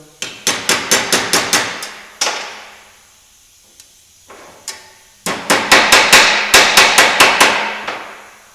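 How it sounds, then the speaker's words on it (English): Steel hammer blows on a dolly as a front fender edge patch panel is smoothed on a 1967 Austin FX4: a quick run of about eight sharp, ringing strikes, a brief pause with a few taps, then another rapid burst. "I'm going to really work this panel so you can smooth it on a hammer and dolly system"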